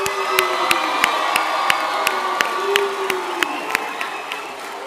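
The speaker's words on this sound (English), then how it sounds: "I hope you're going to make the biggest round of applause for yourselves." A graduating class at a university graduation ceremony cheers, whoops and shouts as a loud crowd, with regular sharp beats or claps cutting through the roar.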